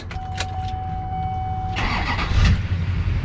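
A Cadillac Escalade truck with a swapped LS V8 cranks and fires up nearby, the starter whirr giving way to a loud rumbling idle that swells and holds steady.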